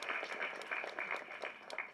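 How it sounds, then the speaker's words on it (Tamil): A Tamil stage audience claps for a veterinary college doctor, the applause quiet and somewhat distant, with a steady patter of hands holding for about two seconds. "கைத்தட்டுங்க."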